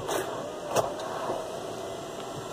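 Electric motor whir of a sunroof sliding open on a 2020 Volkswagen Tiguan SEL, a steady mechanical hum inside the cabin with a faint click near the start.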